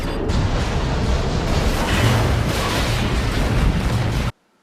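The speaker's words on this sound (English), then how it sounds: "causing the shuttle to explode" A shuttle exploding in the film Jason X, a loud sustained roaring blast that rumbles for about four seconds and then cuts abruptly to silence.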